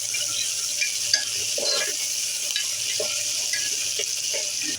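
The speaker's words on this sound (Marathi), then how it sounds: "याच्यामध्ये आपण कांदा टाकून घेऊया आणि थोडासा ब्राऊन होईपर्यंत आपण याला भाजून घेऊया चांगलं" Chopped onions fry and sizzle steadily in a hot pan for prawn rice, with occasional stirring scrapes over a continuous close crackle, no voices.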